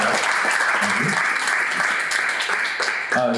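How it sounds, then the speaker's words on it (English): An audience at a small business storytelling event breaks into steady, dense clapping that fills the room. It holds at an even level and begins to thin toward the end. "Can we give them a round of applause for all these ideas?"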